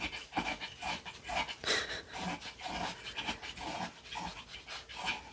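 A dog pants steadily and rhythmically up close, with faint wet chewing mixed in as it gnaws on a piece of pineapple, the quick breaths repeating throughout with no talk.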